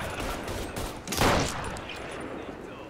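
Rifle fire in the video game Mafia 3, a dense burst of shots with one louder blast in the middle, heard under a constant noisy game backdrop.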